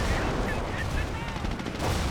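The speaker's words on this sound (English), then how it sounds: "Looks like there's also artillery there." Artillery and gunfire in a WWII strategy game battle, a steady dense rumble of distant shots and blasts lasting the whole moment, with faint voices mixed underneath.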